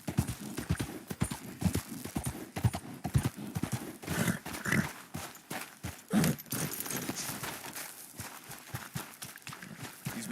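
Rapid, steady hoofbeats of a galloping horse in the Red Dead Redemption 2 video game, with occasional snorts and a brief whinny over a busy outdoor background.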